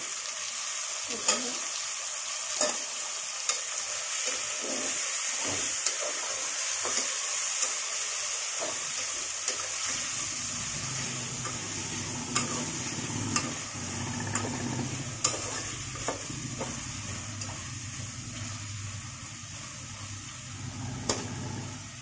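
Tomatoes stirred and frying in a pan for chicken biryani, with a steady broadband sizzle, intermittent spoon scrapes and clinks, and faint background voices.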